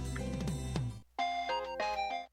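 A synthetic phone ringtone in the video game Steins;Gate plays two bright melodic phrases separated by a short gap, clear and close, with no talking.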